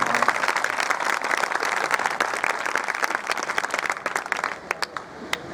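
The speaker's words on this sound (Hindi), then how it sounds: "एक बार जोरदार तालियां।" Loud, dense audience applause at a Gurukul graduates' gathering in Kartarpur, sustained for about five seconds, then thinning into scattered individual claps near the end.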